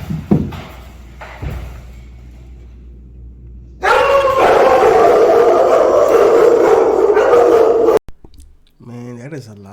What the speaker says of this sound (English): Man, that is a lot of dogs.